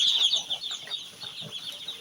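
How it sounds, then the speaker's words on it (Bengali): Ducks giving soft, busy clucking calls over a steady hiss, the calls overlapping in an uneven, restless chatter. "হাঁসগুলো সব যথেষ্ট চঞ্চল আছে।"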